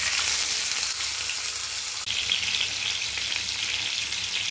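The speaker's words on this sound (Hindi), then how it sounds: "मुझे फिश फ्राई करनी है।" Fish fries in hot mustard oil, giving a loud, steady, close sizzle with a hiss that stays constant throughout.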